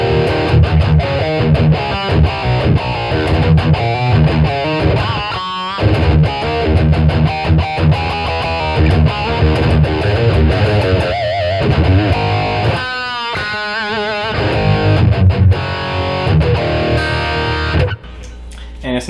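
A heavily distorted electric guitar plays a thick, loud heavy rock rhythm through a Peavey Vypyr 30 amp on its rectifier red channel. Big chords are chugged almost continuously, with brief gaps and a short pause near the end.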